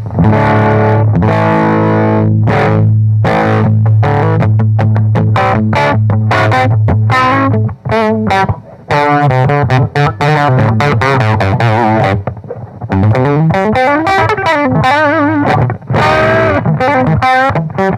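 Electric guitar played through a vintage radio used as an amplifier, heavily distorted and fuzzy, loud and continuous with fast strummed chords and runs, brief dips near the middle and no talking.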